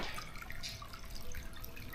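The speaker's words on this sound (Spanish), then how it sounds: "Mira cómo está lloviendo." Faint water dripping and trickling inside a mine tunnel or cave beside a river, a soft continuous patter of drops in a quiet, enclosed space.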